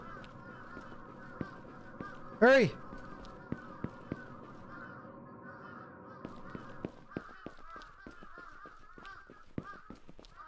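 Crows cawing in the horror video game Akai Onna, a single loud harsh burst of calls over a steady droning game soundtrack, with a voice speaking briefly.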